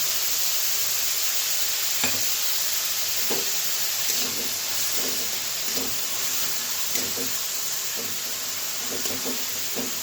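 Chopped green chilies and onion fry in a pan with a loud, continuous sizzle close by, broken by a few soft stirring knocks and scrapes throughout.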